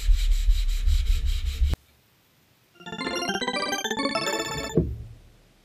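A 220-grit sanding sponge rubs by hand across a custom wooden pedestal table top. A brief close scrape comes first, then a run of quick, rhythmic strokes with small squeaks, and no voices.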